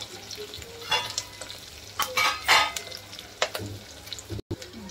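Garlic cloves and ginger pieces frying and being stirred in a pan, a soft steady sizzle broken by several scraping stirs, close and moderately quiet.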